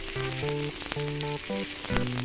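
Fish fry sizzling in hot oil in a pan as the pieces are lifted out, a continuous bright crackle with a faint steady musical tone running alongside, no talking.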